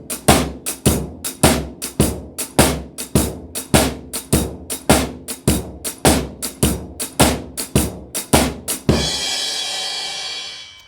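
A basic shuffle beat on a drum kit, played slightly fast, with a steady swung pattern of sharp kick and snare hits mixed with cymbal strokes, close and loud, ending in a ringing crash that fades away.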